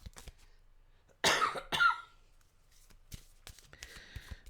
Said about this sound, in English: That cough is persistent.